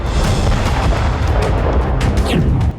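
Explosions from Russian attacks on Ukraine's border region, news footage: dense, continuous rumbling booms and blasts at close range, loud throughout with no talk.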